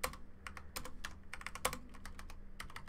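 A computer keyboard is typed on steadily to enter a formula into Google Sheets. Rapid, close clicks run through the whole stretch over a faint low hum.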